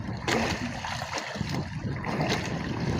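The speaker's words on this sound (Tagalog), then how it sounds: "Kaya malalaki pa yung alon" Sea waves rolling and splashing around a small fishing boat out on choppy, windy water, a continuous loud wash of water and wind noise close by with no clear pauses.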